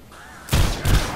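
Two loud, punchy gunshots from a Roblox zombies shooter, about a third of a second apart, over a faint background hum.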